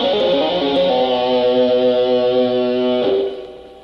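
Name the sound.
electric guitar rock lick played with four right-hand fingers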